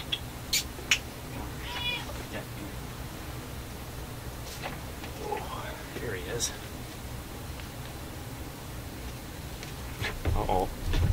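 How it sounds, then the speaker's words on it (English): A 15-year-old senior cat meows a few times indoors, short and fairly faint calls scattered over a quiet background with light rustling and occasional voices. "Watch out, cat on the loose."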